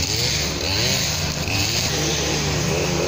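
Tractor engine droning loudly and continuously close by while mowing grass in an urban yard, a steady rough mechanical roar with slight wavering pitch.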